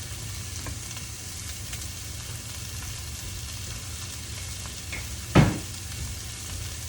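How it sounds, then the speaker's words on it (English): Peppers tossed into a hot pan for a rainbow-style home-cooked dish, with a steady low sizzle throughout and a sharp, brief burst of crackling as they hit the oil near the end. "I'm actually going to throw the peppers in too."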